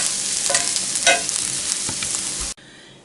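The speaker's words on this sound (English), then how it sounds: "then we're going to saute the mushroom caps themselves for a couple minutes." Portobello mushroom caps sauté in a hot pan, a steady close sizzle with light stirring scrapes for a few seconds before the sound cuts off abruptly.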